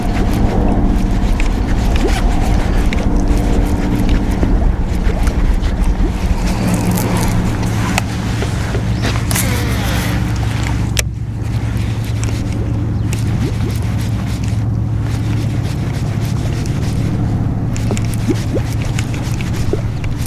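Steady, loud wind buffeting a microphone on a bass fishing boat on Lake Guntersville in the rain, a continuous rumbling roar with scattered scrapes and knocks from the boat.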